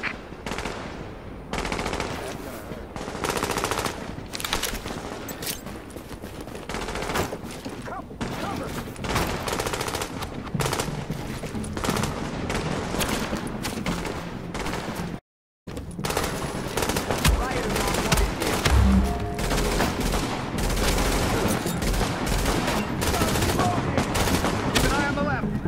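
A Manhattan street firefight in The Division, sustained machine-gun bursts and overlapping shots rattling for long stretches, loud and dense with a short silent break midway and voices mixed in.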